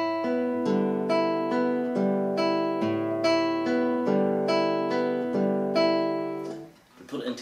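A steady acoustic guitar fingerpicking pattern from Jorge Cardoso's Milonga, with evenly spaced plucked notes ringing over a sustained bass for about seven seconds before fading into a brief rustle.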